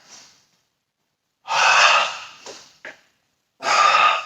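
Forceful breaths during a Pilates exercise class: a faint exhale, then a long loud breath, two short puffs, and another long strong exhalation, spaced by silence.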